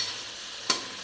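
Potatoes fry in a pan with an even, steady hiss of sizzling oil, close and moderate in level, broken once by a single sharp clack of a utensil.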